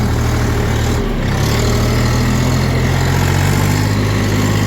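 A three-cylinder economy tractor engine runs steadily in first gear, a loud, continuous low rumble close by with a slight shift in tone partway through.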